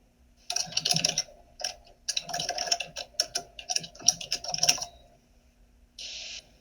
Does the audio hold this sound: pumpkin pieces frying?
no